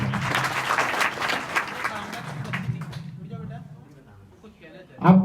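Students in a classroom clap together for a few seconds under a teacher's voice, then the applause fades and a short quiet stretch follows before a final louder burst of sound.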